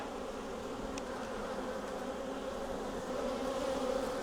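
A dense, steady drone of honey bees buzzing in and around an open hive, many insects blending into one continuous faint hum with no voices.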